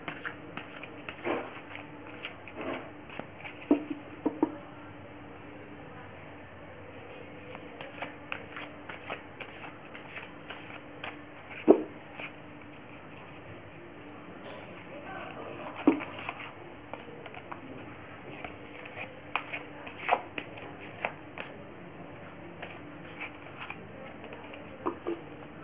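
Tarot cards being shuffled by hand, a steady soft riffling patter with occasional sharper snaps of cards knocking together, close and quiet with no talking.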